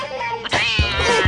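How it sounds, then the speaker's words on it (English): A cartoon cat from the Kim Possible animated series meows twice, a loud, drawn-out, whining yowl followed by a shorter cry, with no talking over it. "And now the cat wants to eat Rufus."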